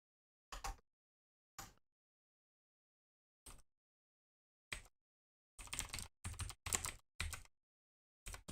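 Someone typing on a computer keyboard in short separate bursts of clicking, sparse at first and then a quicker cluster of keystrokes, close and fairly quiet with silence between bursts.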